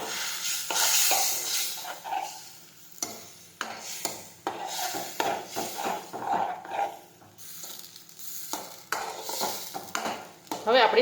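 Masala is stirred into stuffed green chilli curry frying in a pan, a spoon scraping in repeated strokes over a steady sizzle, loud and close with clinks of utensil against the pan.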